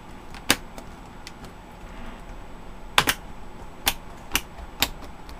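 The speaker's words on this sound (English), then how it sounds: "those little latches have popped out, and the new keyboard is now installed" Small plastic latches click into place as a replacement keyboard is pressed into an Acer Aspire 5733Z laptop, giving a scattering of sharp, close snaps and taps, a pair near the middle and several spaced ones toward the end.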